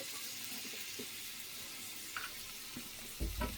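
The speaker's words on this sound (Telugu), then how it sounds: "అతుకుపోకుండా కొంచెం చూసుకుంటా ఫ్రై చేయాలి" Food fries in a pan without oil, a soft continuous sizzle close by, with a few faint stirring scrapes and a small clatter near the end.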